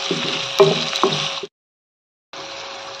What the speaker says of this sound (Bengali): এখন পেঁয়াজগুলোকে ভালো করে তেলের মধ্যে কিছুক্ষণ ভেজে নেব।